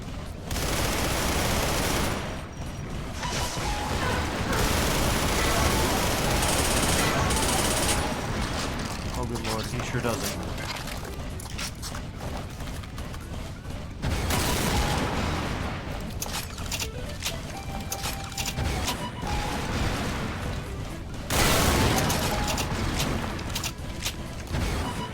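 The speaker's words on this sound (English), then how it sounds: "the super shotguns are just kind of overpowering any audio mix" Rapid shotgun blasts and heavy weapon fire from a shooter video game battle against monsters, loud and nearly continuous, with brief lulls between bursts and chaotic mechanical clatter throughout.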